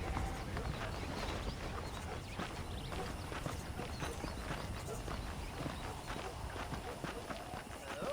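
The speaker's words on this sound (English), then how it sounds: "The horses are saddled up over here." Saddled horses in the Red Dead Redemption video game, with steady clip-clopping hooves and an occasional whinny heard close by over continuous ambient game sound.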